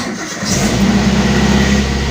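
A car engine is started with the ignition on and all electrics off: a brief cranking catch and then a steady, loud, close idle that hums on without any voices.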